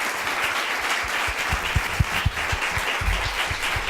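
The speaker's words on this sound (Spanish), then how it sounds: "darle un gran aplauso por su alocución" Audience applause at a lecture by Federico Mayor Zaragoza, a dense, steady clatter of many hands lasting throughout with a few louder individual claps standing out.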